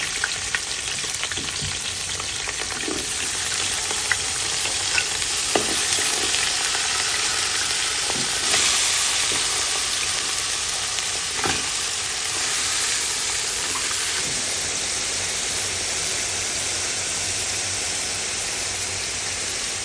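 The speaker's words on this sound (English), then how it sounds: "go ahead and put a nice sear on these lobster" Lobster sears in a hot pan with a steady, close sizzle and crackle that runs unbroken throughout, punctuated by occasional clicks and scrapes of utensils, with no talking.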